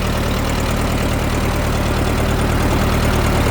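A Case 420 backhoe's engine chugs steadily while the machine drives down a hill, a loud, close, rhythmic diesel-like rumble with an even knocking pulse and no speech.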